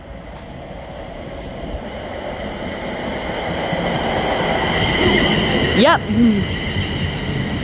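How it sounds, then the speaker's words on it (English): A London Northwestern Railway Class 350 electric train at Nuneaton station on the West Coast Main Line, its rumble building steadily as it draws near with wheel and brake squeals, while a voice briefly speaks over it. "London North Western Railway says from Crewe to London Euston, formed of another one of their 350s."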